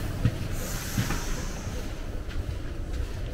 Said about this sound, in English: Let's have our first look at a Swiss train.